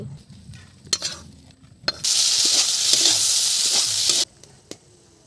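Prawns with roe dropped into a hot pan for chingri bhuna set off a sudden loud, bright sizzle lasting about two seconds, framed by quieter clinks and stirring before and after; no one speaks.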